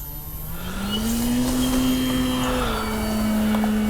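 An Avios Grand Tundra RC airplane powers up for a takeoff from rough terrain with flaps set, its electric motor whine rising steadily in pitch and holding a strong, close drone.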